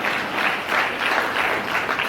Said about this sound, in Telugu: గట్టిగా చప్పట్లు కొట్టండి